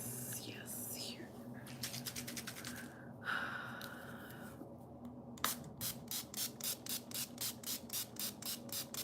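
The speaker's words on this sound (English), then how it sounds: "Do I have any setting sprays?" Makeup setting spray is spritzed in quick repeated pumps, close to the microphone. A few bursts come early, then a long even run of rhythmic sprays follows, with soft breathing or quiet vocal sounds in between.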